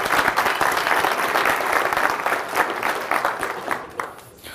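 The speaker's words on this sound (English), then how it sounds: "So another applause for Brian." Conference audience gives a burst of applause for a speaker, loud busy clapping that holds for a few seconds and then thins out toward the end.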